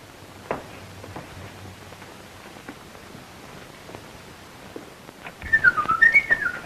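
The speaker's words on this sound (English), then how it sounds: "Stop that whistling." A person whistles a short, bright tune near the end, following a quiet stretch of faint room noise and a few soft knocks.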